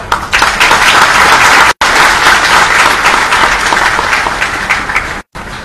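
Dense, loud applause from an audience at a swearing-in ceremony for parliamentary secretaries, steady clapping filling the room with two brief cuts.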